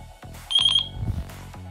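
A radio transmitter beeps while a drone receiver binds, a short run of four bright, evenly spaced electronic tones near the microphone, with light handling noise before and after.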